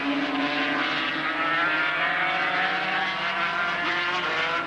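Racing motorcycles of the 1984 TransAtlantic Trophy leaders scream past, a loud, layered high-revving engine roar that swells and shifts pitch as several machines go by in quick succession.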